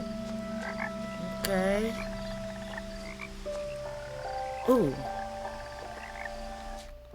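A frog croaks in the video game What Remains of Edith Finch, a few short warbling calls rising over soft ambient game music, with a person speaking briefly around them.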